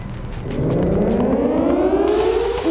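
Loud civil defense air raid siren in Kyiv during a test of the centralized public warning system, a single wailing tone sweeping upward and holding steady, heard alone.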